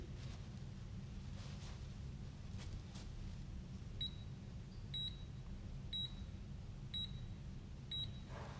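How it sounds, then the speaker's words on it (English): Five short, high beeps from an electronic isometric training timer sound one second apart over a quiet room hiss, following a few seconds of faint rustling. "So you heard the beep."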